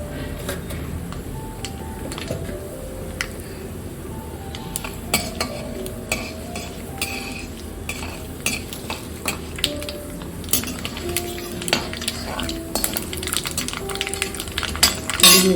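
Mustard seeds and urad dal go into hot oil in a pan for tamarind rice, making a soft continuous sizzle with scattered crackles and metal spoon clinks and stirring scrapes throughout.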